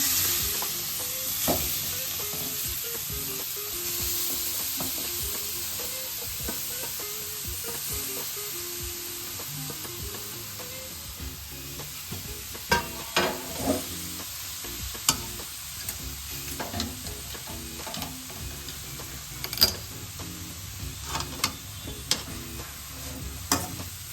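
Grated carrots for carrot halwa fry in a pan with a soft continuous sizzle, and a spatula stirs them with irregular scrapes and knocks that grow busier and louder toward the end, with no talking.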